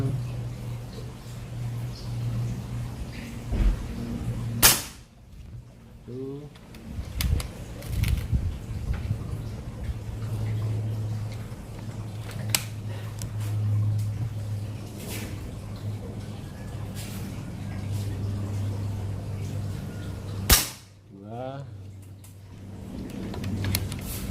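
Two sharp, loud shots from a PCP mini bullpup air rifle using Hercules pellets ring out several seconds apart, each followed by a brief metallic clatter, over a low steady hum with scattered quieter clicks.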